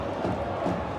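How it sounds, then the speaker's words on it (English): Football stadium crowd roaring together at a West Brom versus Hull City match, reacting to a penalty claim with a loud, sustained wall of shouting and cheering that swells slightly midway. "And you can hear the crowd."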